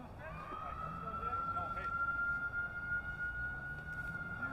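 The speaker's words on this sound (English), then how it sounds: "We are behind the fire station here, so you might be able to hear the engine in the background." Fire engine siren from a nearby fire station at a high school baseball game, a steady faint wail held in the background beneath someone talking.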